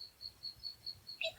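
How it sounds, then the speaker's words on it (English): Birds in a tree right outside a study window give faint, high chirps repeating in a steady pulse, with a brighter cluster of calls at the end over quiet room noise. "Also, I can hear Tweety birds."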